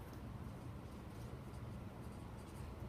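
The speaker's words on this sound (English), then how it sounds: "I'm going to write out my answer" Handwriting an answer on paper during a math review, a steady, dense scratching of pen or pencil strokes held close and even throughout, with no voices over it.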